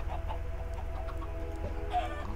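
Chickens clucking softly in the video game Minecraft: a few scattered short clucks over a steady low background hum.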